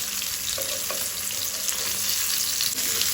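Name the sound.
sardines frying in a pan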